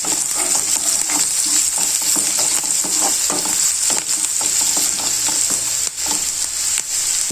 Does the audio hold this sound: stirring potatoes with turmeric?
yes